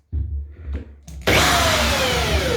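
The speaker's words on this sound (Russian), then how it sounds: "Просверливаю отверстие под саморезы," A power drill bores holes for self-tapping screws while fixing a squeaky floor, with short bursts of motor whine that start and stop before one loud, steady drilling run close to the microphone.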